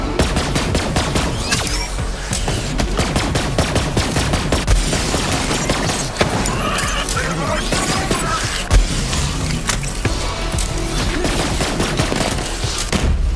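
Dense, relentless gunfire and heavy cannon blasts from artillery-cannon-armed enemies in the Borderlands 3 shooter game: rapid repeated bangs and booms packed together, loud and constant throughout with no pauses.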